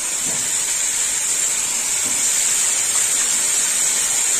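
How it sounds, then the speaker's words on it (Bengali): Tomatoes and green chillies hit a hot pan of spiced fish curry, giving a steady, loud hiss that holds evenly for a few seconds with no voices. "দিয়ে দেবো টমেটো কাঁচা লঙ্কা।"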